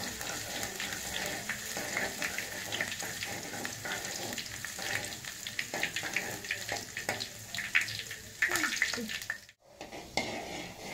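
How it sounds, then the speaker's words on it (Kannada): Finely chopped ginger fries in hot oil in a home kitchen while an egg dish is being made: a steady, close sizzle with scattered stirring scrapes and clicks and a brief drop to near silence near the end. "ಶುಂಠಿ ಫ್ರೈ ಆಗಿದೆ"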